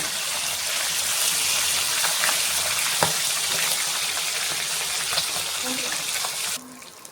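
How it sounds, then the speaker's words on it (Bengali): Tengra fish frying in hot oil, a steady broadband sizzle and crackle running throughout with occasional sharper pops, fairly close, ending abruptly near the end. "তো মাছগুলো কিন্তু একটু কড়া করে ভেজে নেব।"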